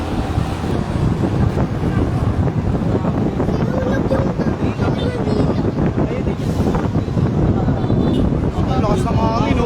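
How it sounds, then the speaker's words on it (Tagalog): Strong wind buffets a microphone outdoors in Tondo, Manila, a loud, unbroken roaring rumble that runs throughout, with voices partly buried in it. "Ang lakas ng hangin, oh."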